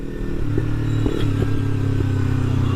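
A carbon-fibre Kawasaki Ninja 300 twin-cylinder motorcycle idles close by with a steady, smooth hum, broken by a few light clicks and small blips of throttle.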